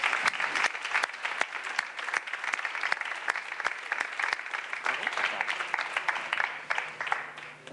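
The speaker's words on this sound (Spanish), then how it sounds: "Un aplauso para todos, muchas gracias." An audience gives applause after a talk, a dense continuous patter of many clapping hands with sharp individual claps standing out, moderately loud and sustained for several seconds.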